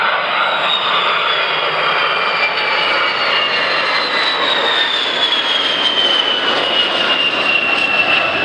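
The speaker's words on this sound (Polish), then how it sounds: "a teraz odlot pełna moc silników." B-52 Stratofortress bomber departing at full engine power at the Radom air show, a loud sustained jet roar with a whining tone that slowly falls in pitch as it moves away.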